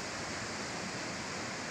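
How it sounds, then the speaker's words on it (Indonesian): Dense, steady roar of big sea waves with heavy rain and strong wind, a continuous broadband wash without breaks or voices. "ombak besar disertai hujan dan angin kencang"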